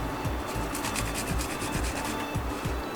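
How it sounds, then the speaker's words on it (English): Garlic cloves grated over a grater, a quick run of close rhythmic rasping strokes that repeat steadily, with no talk. "And then with my garlic cloves, I'm going to grate these in."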